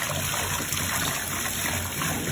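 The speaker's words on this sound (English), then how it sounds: "so you'll just run it under the water" A solid bubble bath bar is held under running water from a tap, giving a steady close gush and trickle that continues without pause and without talk.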